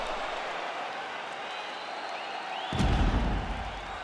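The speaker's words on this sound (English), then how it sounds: "So the crowd voicing its appreciation after that round." Crowd applause and cheering swells in a video-game arena after a round of a UFC fight between Max Holloway and Mikuru Asakura, a broad noisy roar rising sharply near the end and holding loud.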